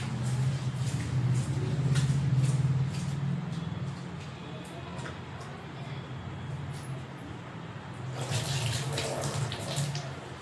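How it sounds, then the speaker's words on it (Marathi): Running water pours steadily while rice is rinsed for a quick home biryani, a continuous close splashing wash that swells louder near the start and again toward the end, with no talk over it. "तांदूळ स्वच्छ धुवून घ्यायचे."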